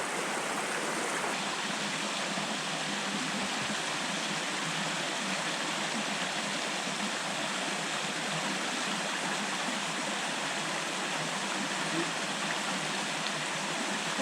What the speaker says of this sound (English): this sign that said there is waterfalls, but I think it's just little waterfalls.